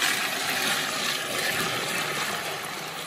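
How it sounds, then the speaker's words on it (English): Water pouring into a bucket of carp bait particles, a broad, hissing splash that runs continuously and close, easing slightly toward the end. "I'm gonna add some water"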